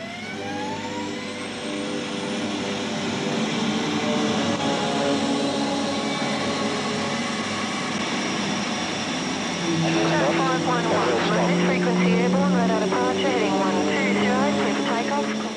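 American F-18 fighter jets fly over an Australian air base in 1986, a loud sustained jet roar with rising and shifting whine that swells toward the end, under someone talking.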